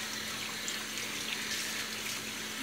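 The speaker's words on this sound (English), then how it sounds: "with this nice piece of roast beef, I'm just going to wash it" Running tap water pouring over a piece of roast beef as it is rinsed at a sink, a steady close splashing hiss that continues unbroken, with no talking.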